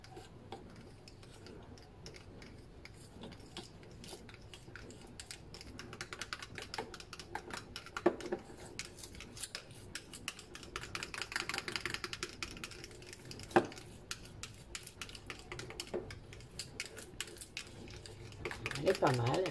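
Clay stirred into a homemade night cream, rapid light clicking and tapping of a utensil against a small bowl, steady and close, with a voice speaking quietly at times.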